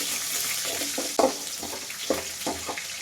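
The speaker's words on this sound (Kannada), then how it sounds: "ಈರುಳ್ಳಿ ಚೆನ್ನಾಗಿ ಫ್ರೈ ಹಾಕೋಬೇಕು." Onions frying for uppittu with mustard seeds and curry leaves, a close sizzle punctuated by a series of scraping, rhythmic stirring strokes, no talking.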